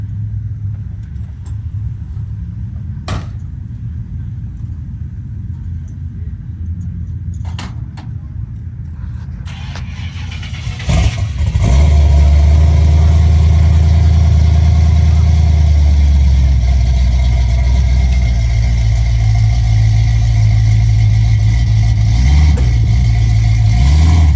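A Ford Falcon drag car at a drag racing event cranks and fires up, then settles into a loud, deep, lumpy idle that rumbles on steadily close by, after a stretch of quieter background engine noise.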